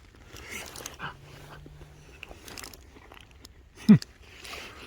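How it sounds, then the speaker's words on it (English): Biting into the crunchy skin of a cooked sweet potato outdoors, soft chewing and mouth noises followed by one sharp, close crunch near the end, fairly quiet overall. "Skin's a little bit crunchy"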